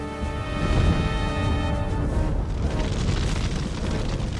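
Bombs from the Nazi air raids on London during WWII rumble as deep, rolling blasts that swell and linger, set beneath a sustained orchestral score.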